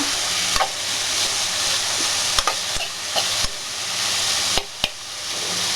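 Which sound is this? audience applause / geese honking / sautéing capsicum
sautéing capsicum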